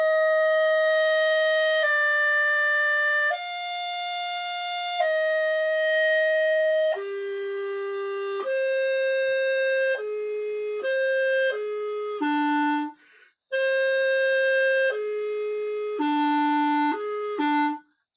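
A solo clarinet plays slow, sustained opening notes one after another with no set pulse, clear and close with a brief gap partway through.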